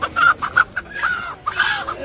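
Chickens at a village market clucking in short, repeated bursts close by, a few quick clucks followed by a longer squawk, with no speech over them.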